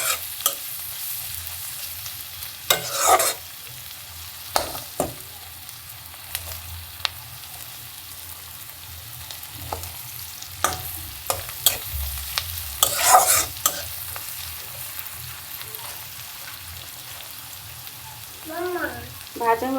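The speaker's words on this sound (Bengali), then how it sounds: "আর দিয়ে দিলাম কাঁচামরিচ। এগুলোকে এখন বেশ খানিকক্ষণ ভেজে নিব।" Green chillies with chopped garlic fry in a pan, a low continuous sizzle broken by repeated loud scraping stirs of a spatula against the pan.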